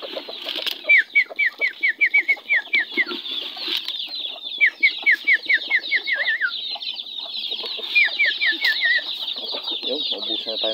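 Chickens cluck and squawk in repeated descending runs while being fed, with wing flaps and pecking amid a constant background of farm chatter and insects.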